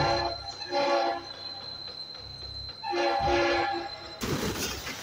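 A train in a video game sounds a long, steady horn blast in two bursts over a low rumbling rail background, followed by a sudden harsh, broadband crash-like noise at the end.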